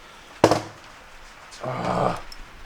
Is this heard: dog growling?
yes